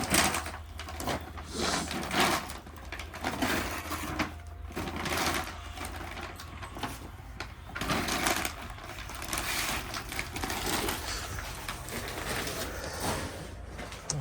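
A seed treatment machine coating maize seed with chemical solution, running continuously with a busy mechanical whir and rattling churn nearby, fairly steady throughout.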